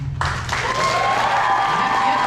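Audience applause at a summer band camp concert, a dense steady wash of clapping that starts abruptly and holds loud and even, with a faint voice briefly under it.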